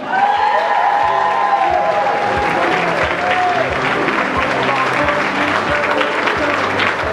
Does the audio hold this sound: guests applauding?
yes